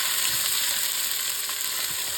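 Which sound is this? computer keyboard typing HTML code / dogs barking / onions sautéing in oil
onions sautéing in oil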